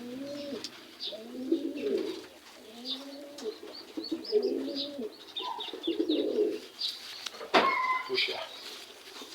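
Pigeons coo in repeated low, throaty phrases close by, with faint chirps and a brief rustle in the background.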